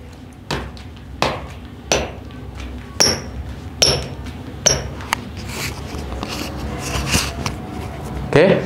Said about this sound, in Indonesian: oke, sepatu ini bunyi ya, King.